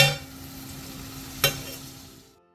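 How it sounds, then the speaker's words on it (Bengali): Boiled chicken goes into hot oil in a home kitchen, a close crackling sizzle with one sharp clatter midway as it is stirred, fading out quickly at the end. "তেল ছেড়ে দিয়েছে এবার ওই যে সেদ্ধ করে রাখা চিকেনটা দিয়ে দাও"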